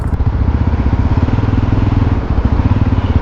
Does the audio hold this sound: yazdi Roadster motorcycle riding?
yes